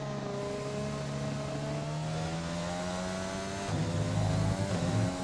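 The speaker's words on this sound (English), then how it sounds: "listen to the engine sounds like it's on its last legs" An F1 race car engine in the video game F1 2020 at Silverstone drones steadily with shifting pitch, sounding worn out, then grows louder and rougher near the end; no voices.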